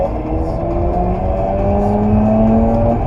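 First-generation Mazda RX-8 rotary engine revving toward redline from inside the car, a loud steady whine climbing in pitch over three seconds.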